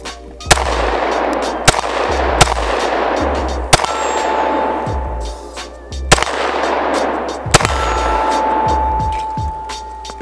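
Loud, sharp pistol shots from an Agency Arms Syndicate S2 Compact fire one at a time at an uneven pace, about seven cracks over ten seconds, each with a ringing tail and no talking.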